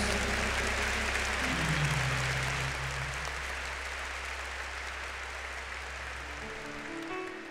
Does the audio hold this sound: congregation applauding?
yes